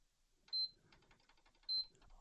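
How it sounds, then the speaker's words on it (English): A storm-damaged PlayStation 5 console gives two short, high beeps about a second apart as it powers on, over a quiet background. "I've never had quick, excessive beeps like that."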